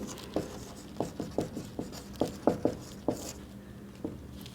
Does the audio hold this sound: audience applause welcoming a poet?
no